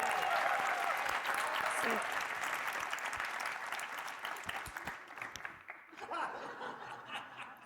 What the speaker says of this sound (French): la jolie Diane qu'on applaudit